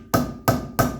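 A rubber hammer taps a dust cap onto the front wheel hub of a 1984 Mercedes 300SD W126: three evenly spaced, solid thuds, close and clear with nothing else heard.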